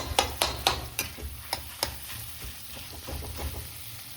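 Spatula stirring and scraping food being roasted in a kadhai, a run of sharp close knocks and scrapes, louder at first then lighter and spaced out, over a low steady sizzle.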